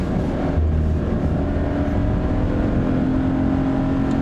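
Engine of a Subaru BRZ drones loudly and steadily from inside the car on a freeway on-ramp, a continuous close roar with low harmonic tones and no speech.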